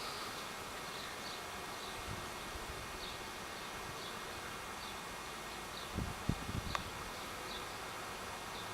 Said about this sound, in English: I got a swarm either coming in or going out, one or the other.